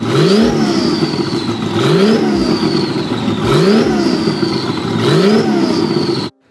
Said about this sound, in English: And now you'll have a lot of rowdiness and pop and gurgles.